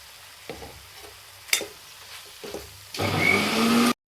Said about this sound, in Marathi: आता खोबरं टाकून घेतो मी